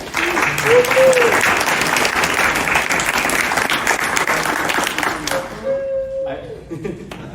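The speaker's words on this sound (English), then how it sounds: "So let's give a round of applause to Sally." An audience claps in sustained applause for several seconds, loud and dense, thinning out near the end while a voice speaks briefly over it.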